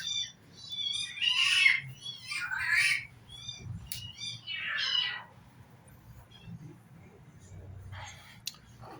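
A house cat meows several times close by, a run of high, wavering cries spaced over a few seconds, with a quiet room and faint background hum behind it.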